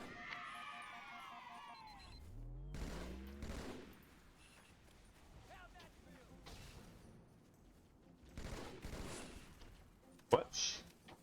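Battle rifle bursts in the Halo 2 video game on the Delta Halo level against Covenant forces, with several scattered gunfire volleys amid chattering alien voices and game effects, ending in one loud, sharp close shot.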